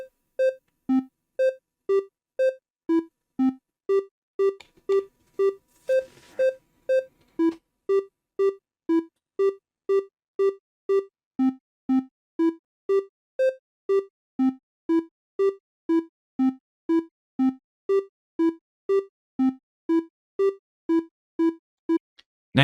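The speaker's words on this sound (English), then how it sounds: "how to use the random float to get some sort of random note" Synthesized tones from Unreal Engine 5 MetaSounds driven by a random float, a steady rapid sequence of short, clean plucked notes landing on randomly varying pitches, evenly spaced and alone.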